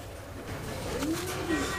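Short-faced double-crested fancy pigeons give a couple of soft, rising coos at close range over a faint, steady background hiss.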